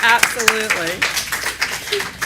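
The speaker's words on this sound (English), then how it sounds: "Could you please give a huge round of applause for Kimberly?" Congregation at a Sunday worship service applauding a woman named Kimberly, clapping mixed with voices and some short tonal sounds, fairly close and moderately loud, fading somewhat after the first second.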